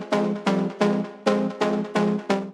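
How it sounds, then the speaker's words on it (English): Deep house drop synth plucks repeat in a steady pattern of seven short, bright, decaying notes, loud and alone with no voices. "starting with these plucks right here"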